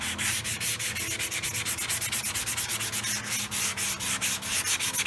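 Rapid, steady back-and-forth strokes of 180-grit sandpaper cutting down primer on a car hood, a loud close rasping scrub repeating in an even rhythm with no voices.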